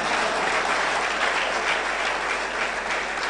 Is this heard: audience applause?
yes